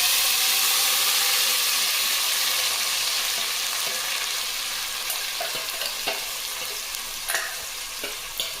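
Onion and tomato paste fries in a pan for chicken biryani, a steady close sizzle and hiss throughout with occasional light stirring clicks and scrapes, no talk.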